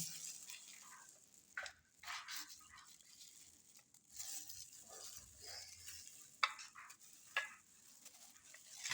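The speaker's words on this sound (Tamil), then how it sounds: "துண்டு துண்டாக கட் பண்ணி எண்ணெயில் நல்லா பொரித்து எடுத்துருங்க" Pieces of pirandai (adamant creeper) frying in oil give a faint, steady sizzle, with a few soft scraping stirs breaking through. No one speaks.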